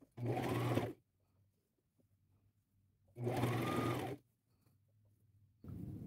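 A sewing machine stitches pleated T-shirt fabric into a ruffled top, running in two steady bursts of close whirring with quiet gaps between them, and a third run starts at the end.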